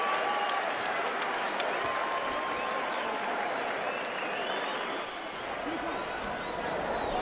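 Applause and cheering fill an arena at a James Toney vs Samuel Peter boxing match, a dense sustained wash of clapping from a large crowd that dips briefly, with a commentator's voice faintly under it.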